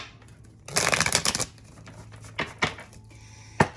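A Rider-Waite Smith tarot deck is shuffled close up: a rapid riffling burst followed by a few shorter flicks and a final snap of cards.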